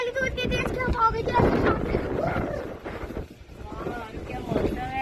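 Strong gusting wind during a windstorm buffets the microphone in loud, rumbling bursts that rise and fall throughout, while people talk over it.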